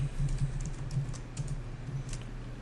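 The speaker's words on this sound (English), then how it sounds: "so type that out" Typing on a computer keyboard, a steady run of soft clicking keystrokes at close range against a low background hum, with no voices.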